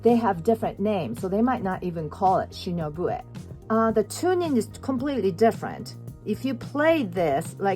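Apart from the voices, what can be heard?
None of the usual background noises is heard.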